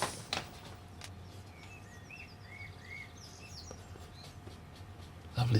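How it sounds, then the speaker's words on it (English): Small birds chirp and sing in short, faint bursts outside a window, a scattered run of calls over an indoor room hum with no speech. "Lovely to hear the little birds just outside the window."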